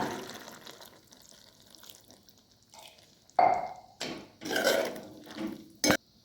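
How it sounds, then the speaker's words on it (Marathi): Hot water splashes and pours into a pan in a few short bursts, with faint clinking of cookware before and after, close and fairly loud, while cooking a cucumber vegetable dish. "याच्यात आपल्याला अगदी थोडासा अर्धा गिलास मी गरम पाणी टाकणार आहे शिजण्यापुरता"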